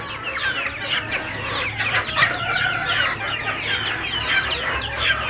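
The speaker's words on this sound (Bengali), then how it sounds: "এদিকে আসেন আপনাদেরকে ছোটো মুরগিগুলো দেখাই ওদেরকে এখন ছেড়ে দিব" Young native chickens cluck and chirp continuously as they are let out of their enclosure on a rooftop, a busy flock of overlapping calls close by with no talk.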